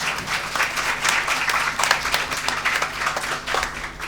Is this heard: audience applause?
yes